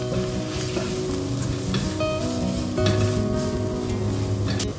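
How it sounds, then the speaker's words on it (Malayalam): Turmeric and garam masala sauté in oil for a Thrissur-style beef and banana dish, producing a loud, dense sizzle with steady stirring and no speech. "ഇനി നമുക്ക് ഇതിനെല്ലാം നല്ല പച്ചമണം പോകുന്നത് വരെ വഴറ്റാം."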